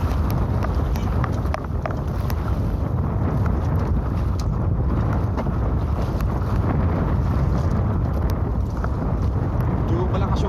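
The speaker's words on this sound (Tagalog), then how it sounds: "Medyo malakas yung hangin ngayon" Strong wind at sea buffets the microphone on a fishing boat in rainy weather with big waves, a continuous loud roar and rumble with gusty pulses throughout.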